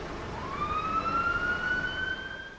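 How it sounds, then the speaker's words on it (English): A lone ambulance siren rises and holds a steady wail at a distance, fairly faint over low traffic rumble, with no voices. "I don't like ambulances noises."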